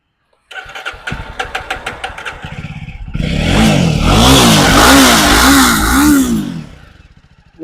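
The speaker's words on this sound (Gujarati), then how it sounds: "એન્જિન ચાલુ કરીને તમને બતાવી દો મિત્રો અવાજ કેવો છે ગાડીનો" A Jawa 42 motorcycle's starter cranks in a rapid rhythmic chatter for a few seconds before the engine catches and roars into a loud, steady rumble with a thumping pulse, then eases slightly toward idle.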